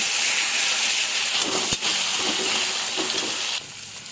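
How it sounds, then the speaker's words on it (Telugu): Green peas and spices fry lightly in a pan for eggplant curry, giving a steady broad hiss with a brief clink partway through, close and fairly loud, with no talking. "మొత్తాన్ని లైట్గా ఫ్రై చేసుకోవాలి"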